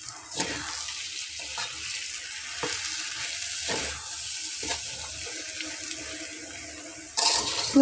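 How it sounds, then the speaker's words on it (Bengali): Washed rice frying in hot oil for Bangladeshi beef tehari, a steady close sizzle with occasional stirring scrapes and a brief louder clatter near the end. "এখন এই তেলের ভেতরেই কিন্তু আমি চালগুলোকে ভেজে নেব"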